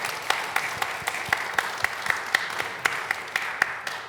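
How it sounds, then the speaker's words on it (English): An audience gives a panel discussion a round of applause, a thin, scattered clapping with distinct individual claps spaced through the room, steady and moderately loud, no talking over it. "Can I just ask everyone to give a round of applause to our panel tonight?"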